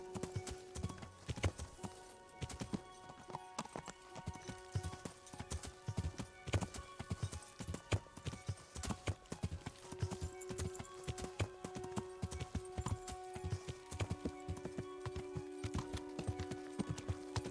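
Rhythmic clip-clop of a horse's hooves as a mount is ridden in Kingdom Come: Deliverance, steady and continuous at a moderate pace, fairly quiet, with faint musical tones beneath and no talk.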